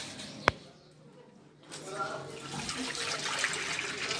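Water runs from a tap while a rescued cat is bathed, a sharp knock followed by a steady splashing rush that grows a little louder and continues, with faint voices nearby.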